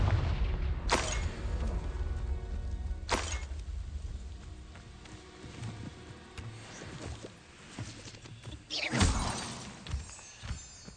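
Blasting spells cast in Hogwarts Legacy, sharp explosive cracks and bursts, two early and a louder one near the end, over a low rumbling game soundscape with no talk.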